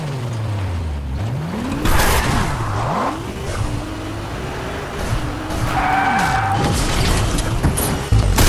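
A car driving in the Fortnite video game, its engine revving up and down through repeated gear shifts, with tires squealing and skidding, loud and close throughout.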